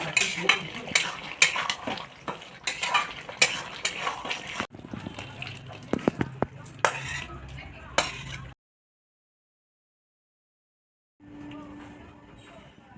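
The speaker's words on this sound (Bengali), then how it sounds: "এটা নেড়ে আর নামিয়ে নেব।" Jackfruit and prawn curry with spices, sugar and yogurt being stirred in a pan, with a spoon scraping and clinking against the metal in quick repeated strokes over a soft sizzle. The stirring stops abruptly partway through and a faint hum follows after a silence.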